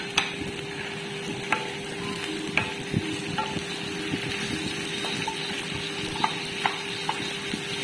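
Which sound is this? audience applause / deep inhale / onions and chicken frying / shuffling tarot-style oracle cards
onions and chicken frying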